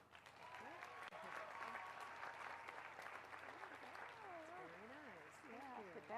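Sustained audience applause fills a college commencement ceremony of the College of Education and Integrative Studies, steady clapping from a large crowd with a voice speaking over it.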